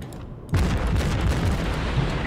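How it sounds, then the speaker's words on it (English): A sudden loud boom of naval guns firing from a Tier X German cruiser, the Hindenburg, in World of Warships, breaking from quiet into a sustained rumbling roar that continues to the end. "Shoot at Big Daddy Terp"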